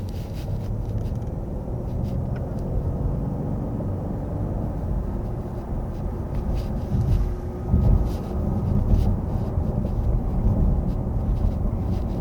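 A 2024 Genesis G90 with a 48-volt electric supercharger and AWD cruises in sport mode, its steady low engine and road rumble filling the cabin, with a brief swell of wind and tyre noise partway through.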